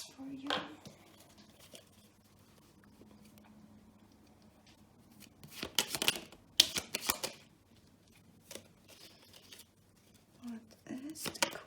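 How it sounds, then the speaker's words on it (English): Tarot cards pulled from a deck, with several quick papery shuffles and flicks in short bursts and quiet gaps between them, near and clear. "Let me pull some more cards for you."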